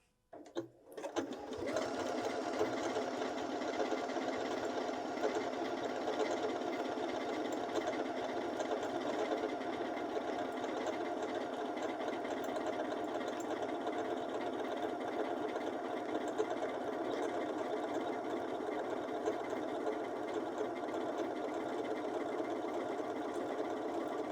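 A Janome 6700P sewing machine starts up and stitches fabric in a fast, even whirring hum that runs without a break, close and clear, with no talking.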